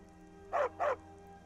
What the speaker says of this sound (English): I found a dog.